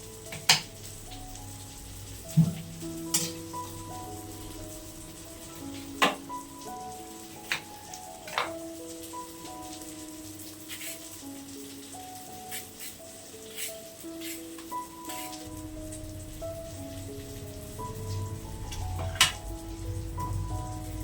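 Chicken legs frying in hot oil in a home kitchen, a steady soft sizzle with scattered crackles and pops and occasional utensil clinks, no talking.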